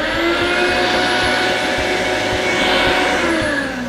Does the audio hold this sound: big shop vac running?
yes